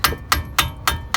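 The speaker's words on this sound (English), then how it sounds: "Just put something in here and just hammer it." Five sharp metal hammer strikes knocking a brake caliper part loose on a 2007–2012 Lexus ES 350 during brake pad and rotor replacement, landing in a steady rhythm about a quarter second apart, close and loud.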